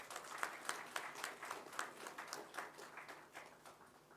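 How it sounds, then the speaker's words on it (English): Audience at a national conference on prosecution gives a steady round of applause, many hands clapping in a dense, even patter for several seconds, quiet and somewhat distant in the hall. "So we should give him a clap."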